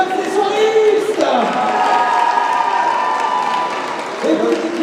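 A crowd at a cosplay contest in Laval claps and cheers loudly throughout. Voices shout and whoop over the steady applause.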